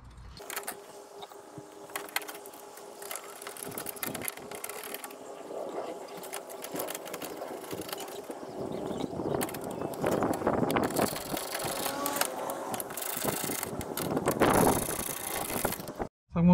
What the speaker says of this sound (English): So I'm gonna be tightening up this bracket.